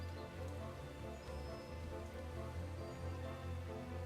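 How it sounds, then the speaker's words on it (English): Steady rainfall in the video game Starbound, a soft continuous patter of drops on a surface with a low rumbling undertone, heard at a faint level throughout. "Oh my god, this rain."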